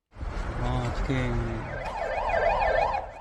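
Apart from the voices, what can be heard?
ambulance and police car sirens at crash scene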